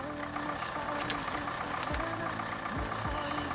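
An MTZ-80 tractor engine idles in Spin Tires with a steady, low, rumbling drone and a faint knocking texture throughout, close and continuous.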